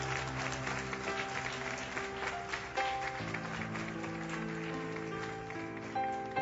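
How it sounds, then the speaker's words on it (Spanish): Church congregation applauding, a sustained, moderately loud wash of clapping mixed with held musical tones from an instrument underneath. "Ese aplauso debería ser mejor para Dios."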